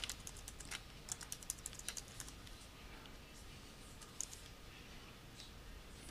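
Quiet typing on a computer keyboard while entering setup details for a Windows 7 client install, a run of light irregular key clicks that thins out over a few seconds, no talking.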